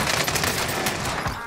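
Sustained automatic gunfire in the Warzone Rebirth Island battle royale game, dense rapid bursts running continuously at close range with loud sharp cracks and no pause.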